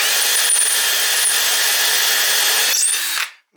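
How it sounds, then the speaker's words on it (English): A battery drill runs continuously at high speed, drilling into a plywood floor during a Singer 111 W155 sewing machine servo motor install, with a steady whine, brief pitch dips, then stopping abruptly near the end. "Not sure if I'm hitting the plywood floor or what I'm drilling into."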